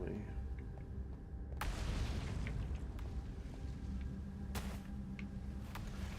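A distant explosion rumbles in the Outer Wilds game world, a broad low roar with a sharp onset partway through that swells and lingers under a steady wash of background noise.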